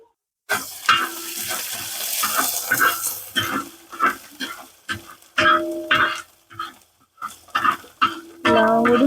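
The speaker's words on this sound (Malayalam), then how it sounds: "എല്ലാം കൂടി നന്നായിട്ട് കിലന്ന് നന്നായിട്ട് വടറ്റണം കേട്ടോ" Chili, garlic and curry leaves crackle and sputter in hot oil for beetroot and dates pickle, a loud close sizzle broken by repeated stirring bursts and short pauses, with no speech.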